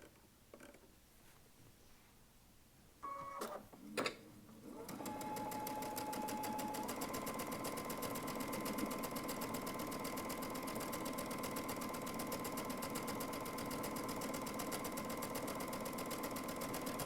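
A Baby Lock Altair sewing machine fitted with a gathering foot stitches steadily at a short stitch length and high tension, a close, continuous rapid mechanical whir running on after a few clicks of setup.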